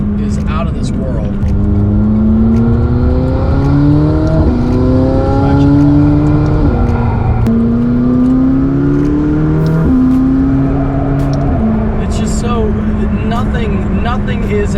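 McLaren 600LT sports car engine pulls hard through the gears, revs climbing and dropping with each upshift, loud and close from inside the cabin, steady roar throughout.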